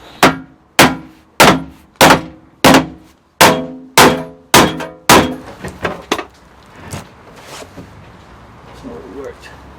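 Rapid series of about nine loud, sharp metallic bangs as an edge of a vintage van's metal body is struck to mark plywood sitting against it, then a few softer, irregular knocks trailing off into quieter shuffling.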